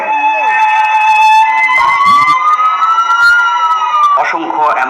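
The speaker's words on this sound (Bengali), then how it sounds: "অ্যাম্বুলেন্সের আর্তনাদে প্রকম্পিত পুরো এলাকা" An ambulance siren wails loud and close at the scene of a plane crash in Uttara, Dhaka, its rising and falling tone sustained throughout amid crowd noise and voices.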